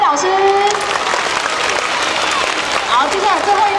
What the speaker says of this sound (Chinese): 掌声鼓励鼓励